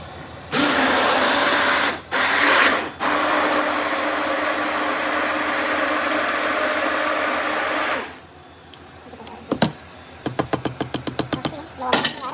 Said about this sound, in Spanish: ya sofrita la cebolla, el ajo que me sobró y el tomate, lo voy a llevar a licuar